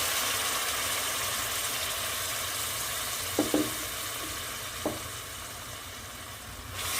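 Vegetables, including cauliflower and carrot, sizzle in a pan as water is added, a steady close hiss with a few soft knocks of utensils partway through and no voices.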